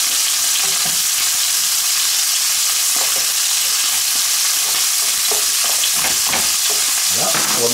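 Lamb pieces sear in a hot pan for a sorrel sauté, a loud steady sizzle and frying hiss filling the whole stretch, with occasional stirring scrapes and no talking.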